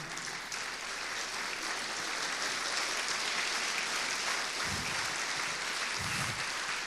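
An audience claps for a speaker after her testimony at a talk, a steady, fairly soft wash of applause lasting several seconds with a few low thumps near the end.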